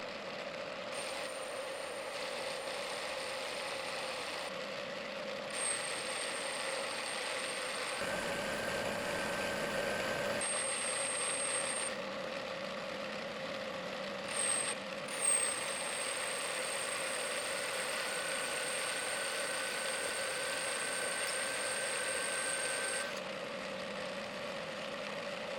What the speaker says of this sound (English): I continued machining the lateral profile using a grooving strategy followed by a final profiling pass.